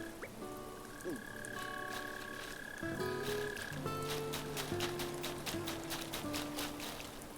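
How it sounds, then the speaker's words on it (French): Mole cricket in Animal Crossing: New Horizons gives a long, steady buzzing trill that shifts pitch in stages, with a few croaky overlapping tones layered over a soft outdoor game ambience. "ça, je pense que c'est le taupe grillon"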